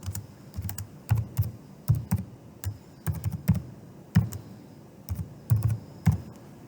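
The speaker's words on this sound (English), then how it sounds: "Then you have to type in your credentials in order for you to be able to access" Login credentials typed on a computer keyboard: quick clusters of clicky keystrokes in irregular bursts, close and clear, with no voices.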